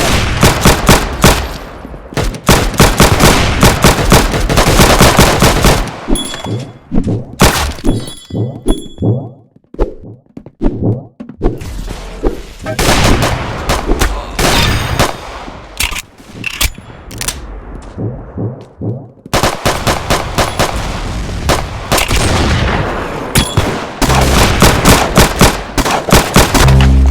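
Rapid bursts of loud video game gunfire repeat and rattle through most of the stretch, broken by a quieter gap in the middle, with metallic dings and thunks mixed in.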